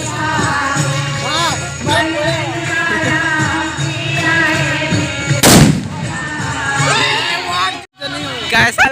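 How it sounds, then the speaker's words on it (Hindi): Firecrackers bursting during Diwali in a village, a single loud sharp bang standing out over constant chatter, children's voices and crowd noise, with another smaller burst near the end. "कैसा लगा बम फोड़ के?"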